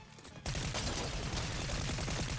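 A burst of rapid Fortnite gunshots starts abruptly and rattles on steadily in quick repeated cracks, close and loud, with no one talking.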